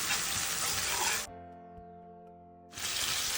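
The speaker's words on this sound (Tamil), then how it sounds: "ஃப்ரீயாக நறுக்குன ஒரு பெரிய சேர்த்து வெங்காயத்தை போட்டு நம்ம அழகாக வதக்கிக்கலாம்" Loud sizzling from onions sautéing in a hot pan, cutting out briefly to a faint electronic hum before the sizzle returns.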